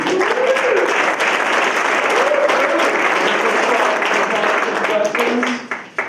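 An audience at a live music talk event gives a loud, dense round of applause that carries steadily with some crowd noise mixed in, then tapers off abruptly near the end.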